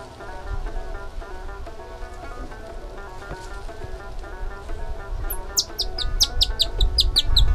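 A nightingale (bulbul) sings in a garden: bright, rapid chirping phrases arrive late, loud and close, repeating quickly over a steady background hum and low rumble.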